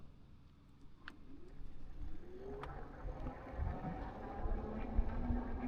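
An Aipas F3 Max e-bike climbing a very large hill on throttle only, its motor giving a steady rising whine that grows louder and strains toward the end of the climb.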